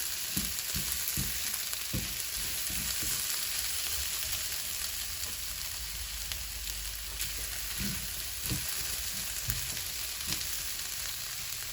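Shrimp and snow peas with ginger sizzle steadily in a hot pan, a continuous close frying hiss broken by scattered low knocks and scrapes as the food shifts, with no voices.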